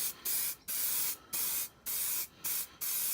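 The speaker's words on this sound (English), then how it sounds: "I'm just going to give it some nice liberal sprays" Rapid bursts of aerosol primer spraying, six short hissing blasts in a steady rhythm with brief pauses between, close and fairly loud.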